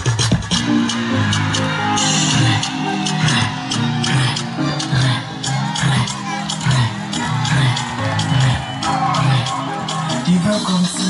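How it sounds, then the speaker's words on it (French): Loud, dense crowd cheering and whooping with steady clapping at a live French-language concert or stage event, continuous throughout with shouts rising over a booming music-like bed. "On les applaudit."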